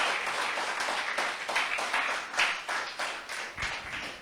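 A church congregation claps together in a steady, dense burst of applause that fills the space evenly and continues throughout without any voice on top.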